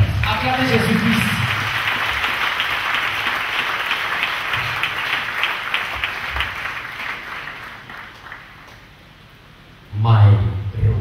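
Sunday church congregation claps and applauds for Jesus Christ in a sustained, even wash of hands that gradually thins out before a voice speaks up again.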